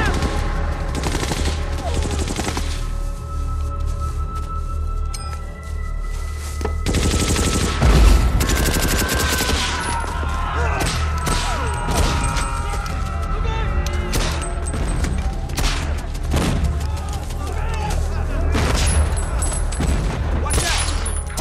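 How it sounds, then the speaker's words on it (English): A danger-close artillery strike in the war film The Thin Red Line: heavy booms and rattling gunfire pile up in a dense, continuous battlefield roar, with voices mixed into the chaos. "So this is a good example of how an eyes on danger close artillery strike"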